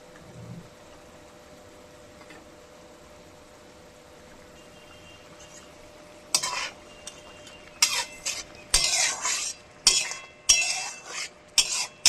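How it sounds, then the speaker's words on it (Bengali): Khoira fish pieces are dipped one by one into a boiling mustard curry, giving a run of wet splashes and clatter that starts midway, after a stretch of quiet bubbling. "এই যে মাছ একে একে চুবিয়ে দিচ্ছি।"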